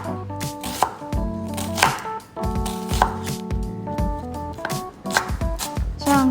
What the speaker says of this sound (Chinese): 把大葱切碎会比较快一点哦